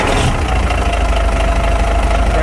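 A Caterpillar 3406B diesel engine idles close up, a loud, steady, rough rumble with knocking pulses, with no voices.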